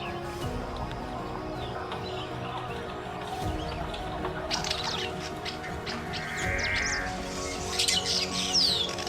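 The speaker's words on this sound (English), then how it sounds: "Beneath the dense forest canopy, sharp, high-pitched calls ring out. Echoes of vibrant little parrots flitting through moss-covered branches. These are Fisher's lovebirds" Sharp, high-pitched calls of Fisher's lovebirds, small parrots in a dense forest canopy in Rwanda, chirping and squawking intermittently over a steady background of ambient forest noise, with the calls growing busier in the second half.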